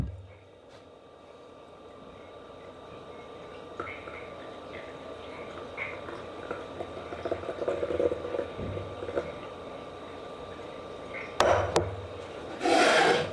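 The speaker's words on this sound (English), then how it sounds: "You're using an espresso machine to clean it" An espresso machine's steam wand blows through a vape atomizer to clean it, a low hissing rush that builds and wavers before sharp bursts of spitting steam near the end, recorded close with no talking.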